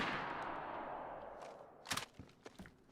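Gunfire in the video game DayZ: a few sharp, close shots ring out in the second half, spaced irregularly over a fading hiss of ambient noise.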